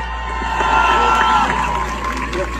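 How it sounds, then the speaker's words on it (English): A crowd at a gathering introducing the executive director of CARE Minnesota breaks into steady applause with cheers and whoops, moderately loud and continuous, with some voices mixed in. "Round of applause for my brother, Jailani."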